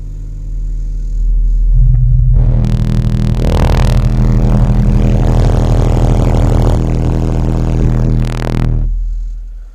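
DD Z9512 subwoofer playing a loud, deep bass burp around 40 hertz for several seconds, a heavy rumbling tone swelling in and cutting off, with no talking.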